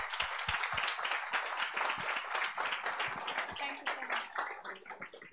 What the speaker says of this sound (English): So just a great big round of applause.